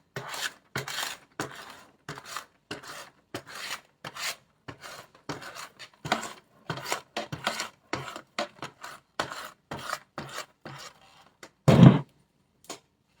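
A spatula scraping down the sides of a cake batter bowl while making an orange pineapple layer cake, giving a run of short, close rasping strokes in an irregular rhythm, followed by one louder knock near the end.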